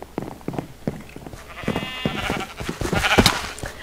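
Sheep bleating in a video game, with several quavering bleats in quick succession over a busy backdrop of clicks and other game sounds, fairly close and clear.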